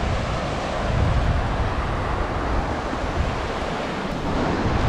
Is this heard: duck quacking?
no